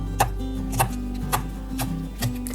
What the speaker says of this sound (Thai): หั่นชิ้นพอคำนะครับ